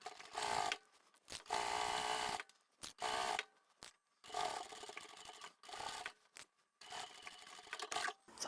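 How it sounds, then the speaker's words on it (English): A sewing machine stitches the side seams of a handbag with zippers and pockets, running in several loud, steady whirring bursts separated by short pauses and stops, close and without talk. "Let's take this to the machine. We'll sew all the way down here"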